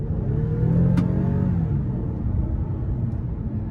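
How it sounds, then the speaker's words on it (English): A 2018 Toyota Avalon Limited with the 3.5 V6 in sport mode pulls hard out of a corner, its engine note rising into a loud, steady, close-up roar. "I'm going to give it a little throttle coming out of this corner"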